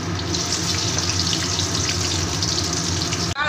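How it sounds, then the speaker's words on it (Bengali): A few raisins frying in hot oil in a kitchen pan, a steady loud bubbling sizzle that fills the whole stretch without talking, cut briefly near the end. "তেলে আমি কয়েকটা কিশমিশ ভেজে নিচ্ছি"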